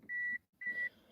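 An electronic device gives three short, clean, high-pitched beeps, each lasting about a quarter second with brief gaps between, heard up close with faint background noise.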